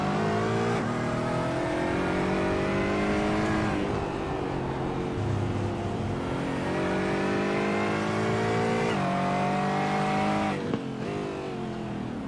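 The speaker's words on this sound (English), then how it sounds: "That's the traction control just kicking in." A GT4 race car in a sim racing game circles the Nürburgring GP circuit, its engine note climbing and dropping through repeated gear changes. The power cuts in and out as traction control intervenes, with no talking over the steady loud drone.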